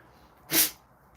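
A single sharp sneeze, close and brief, bursting out of near silence.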